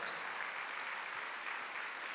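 A church congregation at a Korean Sunday worship service claps together, a brief, fairly faint wash of applause with a short hiss at the start.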